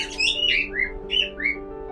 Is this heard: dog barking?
no